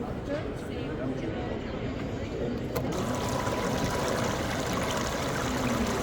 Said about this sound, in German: das Wasser, das wird dann nicht mehr verschwendet, sondern in den Pool zurückgespült